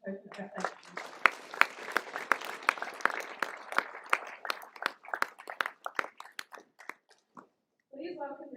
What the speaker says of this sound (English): Can we please give them a round of applause as a token of our thank you?